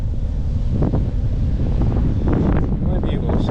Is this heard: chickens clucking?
no